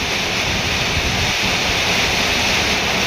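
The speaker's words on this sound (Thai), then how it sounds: "พายุฤดูร้อน" A summer storm hits a rural home in Laos with heavy rain and gusting wind, making a loud, unbroken roar of pouring water and rushing air close by.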